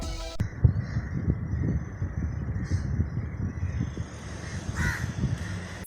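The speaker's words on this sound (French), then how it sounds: "Vous entendez ce bruit de mouette ?" Seagulls calling repeatedly in an open outdoor setting, loud and close, with harsh cawing cries over a steady low rumble of wind or traffic.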